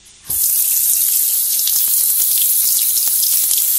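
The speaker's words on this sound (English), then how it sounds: "And then we take this and put it in the sink, just like this. Turn on the water." Tap water gushes into a sink after a short quiet start, a loud, steady hiss of running water that continues unbroken to the end with no voices.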